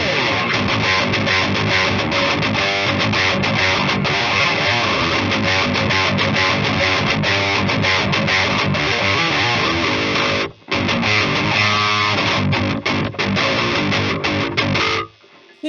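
Electric guitar played through a Harley Benton Mighty 15 amp boosted by a KSR EROS pedal with extra gain, dense distorted chords and riffs ringing continuously, one brief pause, faint hiss beneath.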